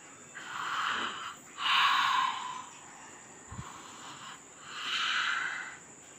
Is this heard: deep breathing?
yes